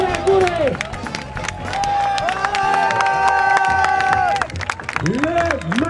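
A crowd at the Coupe Icare festival in St. Hilaire cheers and applauds a paraglider launch, with shouts and clapping mixed with a loud announcer's voice and warbling whistles or music throughout.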